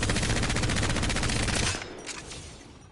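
Devotion light machine gun in Apex Legends firing one sustained, fast automatic burst at close range, the rapid rattle stopping abruptly partway through and followed by a few faint clicks and quieter shots.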